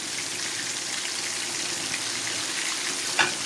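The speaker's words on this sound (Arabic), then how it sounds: "ادي الزيت بتاعنا هو سخن اهو. هننزل كده بالقراميط." Catfish pieces fry in hot oil with a steady, even sizzling hiss, close and moderately quiet, with a brief sharper crackle near the end.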